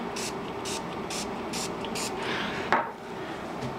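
Spray bottle of 99% rubbing alcohol misted over freshly poured lavender cold process soap: five quick, evenly spaced hissing spritzes, then a brief clatter, over a constant background hum.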